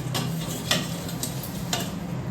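Food cooking in a pan on a home stove gives a steady, close sizzle with faint clicks and light ticking throughout, with no talking.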